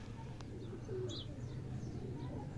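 Teddy pigeons cooing in a loft: a soft, steady low coo runs throughout alongside faint chirps, with no talking.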